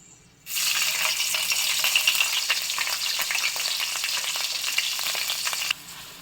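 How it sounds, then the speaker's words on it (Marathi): A ground paste of fried coconut, onion, ginger and garlic sizzles loudly in a pan for misal, a steady close frying hiss that starts abruptly and runs continuously with light stirring rattles before cutting off near the end. "हे छान वाटण आता आपण परतून घेऊयात."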